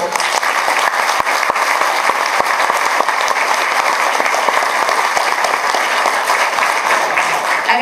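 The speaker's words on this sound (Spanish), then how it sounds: "a quienes brindamos un fuerte aplauso" A university graduation audience gives the academic coordinators loud, sustained applause. Many hands clap together in a dense, even patter that holds steady throughout with no talk over it.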